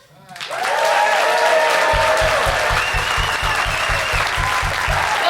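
Studio comedy audience applauding loudly to vote for comedian Henry Kneiszel, a dense sustained wash of clapping with cheering voices and a steady low rhythmic thump underneath.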